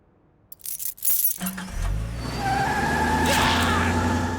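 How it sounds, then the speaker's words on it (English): Car keys jangle in a cartoon as a brief metallic rattle that gives way to a rising whoosh and a sustained vehicle-like rumble with tonal layers. "Now, can I please have the car keys?"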